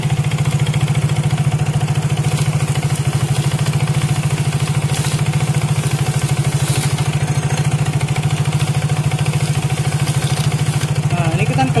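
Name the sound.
scooter engine running, used as a lathe for sanding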